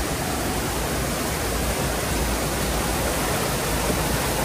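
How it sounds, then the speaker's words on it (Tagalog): A strong stream current rushes near a waterfall, a loud, dense and unbroken roar of water close by, with no voices. "Ang current ng tubig niyan, malakas yan."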